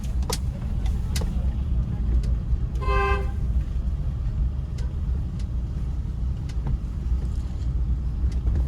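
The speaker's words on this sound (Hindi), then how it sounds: "हॉर्न दो" A short car horn toot rings out once from inside a car during a beginner driving lesson, amid steady road and wind noise, with occasional clicks in the background.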